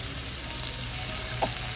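Garlic fries in oil for tempering greens over a wood-fired stove on a rooftop, giving a steady, even sizzle throughout with a faint stirring scrape near the end.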